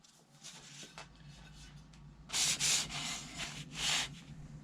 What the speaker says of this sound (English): take the elevator here, sand it, and make sure it's nice and straight